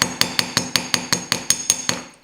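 A hammer flattens chunky wire for wire roses on a hard surface: about eleven sharp, evenly spaced metallic blows in quick succession, close and loud, with nothing else heard.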